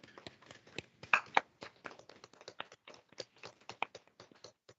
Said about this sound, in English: so we can give all the candidates and now all the new attorneys a round of applause